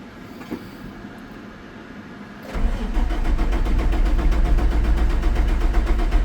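An International 4300 truck cranks for a few seconds, then its diesel engine catches and settles into a loud, steady, rumbling idle close by.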